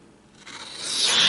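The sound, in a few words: CRKT Symmetry knife cutting heavy-duty stock paper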